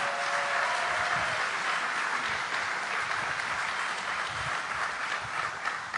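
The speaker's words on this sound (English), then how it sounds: "How about a round of applause for Randall and the crew?" An audience applauds at an outdoor or hall event in Michigan, a dense, steady wash of clapping heard from a distance that holds at an even level throughout, with no single voice standing out.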